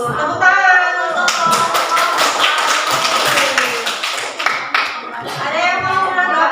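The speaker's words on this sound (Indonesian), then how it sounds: "Tepuk tangan untuk" Classroom audience clapping in a lesson at an Indonesian teacher-training session, a dense burst of hand claps mixed with voices, with talking at the start and end.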